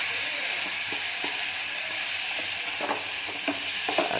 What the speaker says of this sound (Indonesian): kita campurkan sosis ya dalam tumisan jagung